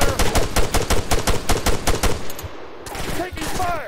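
Rapid bursts of automatic gunfire in the ARMA 3 military combat game, a steady rhythmic string of loud close shots for about two and a half seconds, then scattered distant fire and echoing reports as the burst ends.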